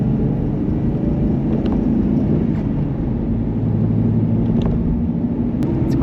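Jeep Cherokee XJ with the 4-liter engine cruising near highway speed, a steady low rumble of engine, tire and road noise that holds constant and close throughout.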